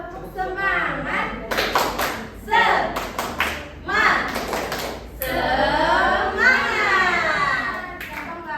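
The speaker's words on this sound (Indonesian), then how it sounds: "Tepuk semangat." Children perform a rhythmic tepuk semangat (spirit clap) during a nutrition outreach session, with bursts of group clapping interleaved with chanted voices and a leader speaking.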